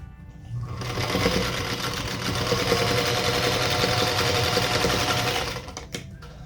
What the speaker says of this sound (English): now we'll sew to those 2 remaining sides